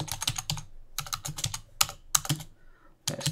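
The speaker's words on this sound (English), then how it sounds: "Let's type in plants." Fingers type on a computer keyboard in quick bursts of close, crisp key clicks separated by short pauses, with no talking.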